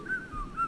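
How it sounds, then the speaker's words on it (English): A faint, thin whistled tune drifts in the background of the game Baldi's Basics in Education and Learning, a few short wavering notes over a quiet hum. "Who's whistling?"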